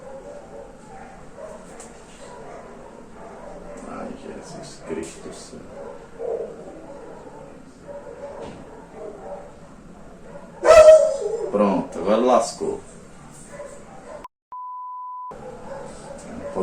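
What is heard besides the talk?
dogs barking and whimpering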